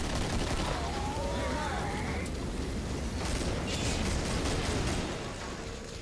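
Sustained automatic gunfire in the horror shooter Killing Floor, a dense roaring burst of shots and blasts filling six seconds, loud and continuous, easing slightly at the end.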